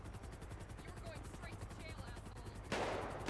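Gunfire in GTA 5 plays as rapid, steady bursts of automatic shots throughout, fairly loud, with a brief surge of noise near the end.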